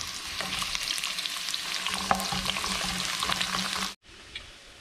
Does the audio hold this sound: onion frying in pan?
yes